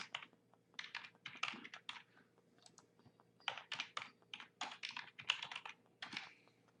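Quiet, close typing on a computer keyboard, with rapid bursts of key clicks separated by short pauses and no talking.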